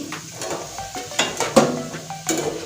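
Potatoes fry in oil in a pan, a soft sizzle broken by stirring scrapes and light metallic clinks of a utensil against the pan, close and fairly quiet.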